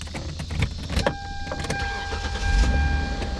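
A warmed-up used car's engine catches and runs right away, a steady rumbling idle with a few clicks and a faint high whine over it, close by, with no talking.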